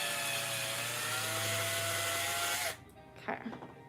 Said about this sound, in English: I feel terrible when I have to drill a hole in the Pokémon